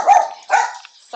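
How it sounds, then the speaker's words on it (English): A pet dog barks twice during an online live lecture, two short close barks with a pause between them and a brief third sound at the end, no talk over them. "Sorry, guys, that's my dog."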